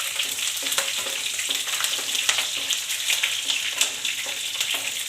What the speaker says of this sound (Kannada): ಶುಂಠಿ ಹಾಕೊಂಡು ಸ್ವಲ್ಪ ಫ್ರೈ ಮಾಡ್ಕೊಳ್ಳಿ